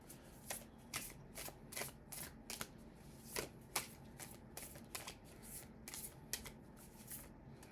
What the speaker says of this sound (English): these are the Healing Spirit cards by Gordon Smith. And they look like this. And I always pick one card